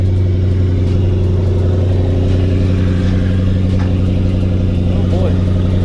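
A drag car nicknamed Whitey idles steadily as it is put in reverse with the trans brake button and backed off a trailer, a continuous near engine rumble with faint voices in the background.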